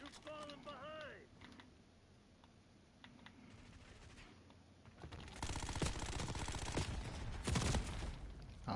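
Rapid automatic gunfire from Call of Duty Black Ops 6 multiplayer, loud bursts filling the second half after quieter game sounds and chirping effects, with voices talking over the action.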